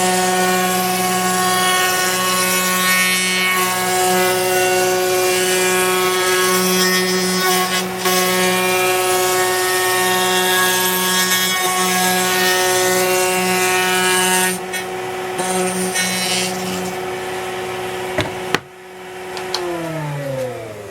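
A power tool, likely a router, rounds over the edge of a wooden puzzle board, giving a loud, steady high-pitched whine with strong tonal harmonics that runs nearly throughout, then spins down near the end.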